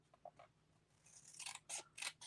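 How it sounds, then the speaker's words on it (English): Scissors snipping through paper along a scored fold line, a few quick close cuts building into louder crisp snips toward the end, with no voices. "you can just take your scissors"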